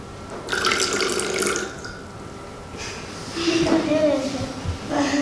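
Water poured over a hydrophone splashes and gurgles in bursts, pouring and bubbling close by, with a hollow underwater quality and brief pauses between pours.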